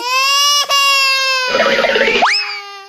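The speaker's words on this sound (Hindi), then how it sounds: "बच्चे की रोने की आवाज।" A cartoon baby cries in a loud, sustained wail, then a rough, shaky sob, and ends on a sharp rising squeal.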